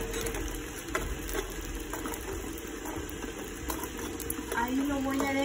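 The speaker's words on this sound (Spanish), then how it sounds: "Ya que terminé de poner la salsa, voy a dejar caer chicharrón." Chicharrón drops into salsa in a pan, sending up a continuous bubbling sizzle mixed with wet stirring and light clatter, close and fairly loud.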